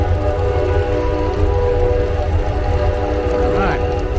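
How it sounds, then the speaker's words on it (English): A train passes through historic downtown Plant City, a loud steady rumble dominating the scene with a horn-like tone rising near the end. "the train distracted me."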